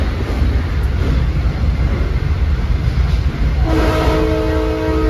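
Loud, continuous roar and rumble recorded from inside a Long Island Rail Road train as a westbound train passes, with a horn sounding toward the end.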